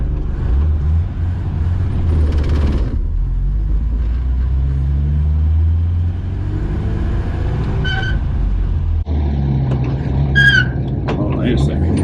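A 1953 Buick straight-eight rumbles steadily while driving, with low engine and road noise heard from inside the car, and someone talking over it. Brief high chirps come in near the end.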